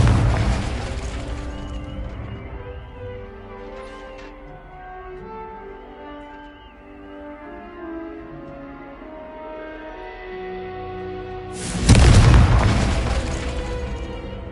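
A loud booming blast from a blasting-curse spell in a Hogwarts video game erupts near the end, rumbling over sustained orchestral music, with a smaller burst at the start.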